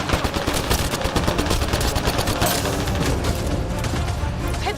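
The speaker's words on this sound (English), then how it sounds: "Just keep firing, we can do this!" Rapid, continuous gunfire from the Mass Effect video game, a dense barrage of overlapping shots and impacts that stays loud and close for the whole stretch, with no pauses.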